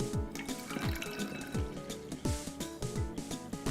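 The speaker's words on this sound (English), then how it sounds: "And I am going to add water to this." Water from a tap runs and splashes into a jug of orange juice mixture, about 500 milliliters added, with a steady pouring rush and clinks of container near the microphone, no talk.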